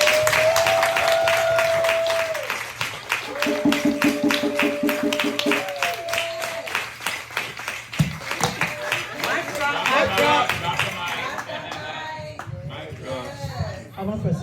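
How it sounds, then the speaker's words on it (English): An audience claps and applauds together with crowd chatter and speech mixed in, a steady dense patter of many hands that continues for most of the stretch. "let's give a standing applause to you"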